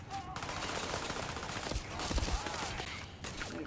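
Rapid gunfire in the Starfield video game, dense overlapping bursts of shots running continuously at close range with some louder impacts near the middle.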